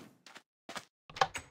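An iron door opening in Minecraft, several short blocky thunks and clunks separated by silence, fairly quiet.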